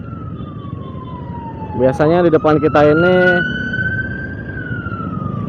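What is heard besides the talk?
ambulance siren in traffic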